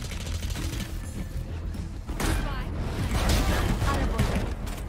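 Video game gunshots crack out in a chaotic fusillade, bursts growing louder and denser in the second half, mixed with mechanical clatter and a voice talking over the action.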